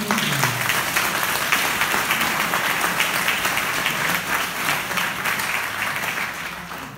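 A crowd at a village meeting applauds the local shopkeepers with dense, sustained clapping that stays loud and even throughout, tapering slightly at the end.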